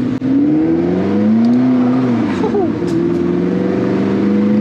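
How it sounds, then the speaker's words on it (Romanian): A McLaren MP4-12C Spider engine pulls in first gear from around 1500 rpm, loud and close, its droning note climbing steadily before a brief dip and then holding a strong, even tone. "chiar și într-a-întâia la 1500 motorul se aude destul de tare"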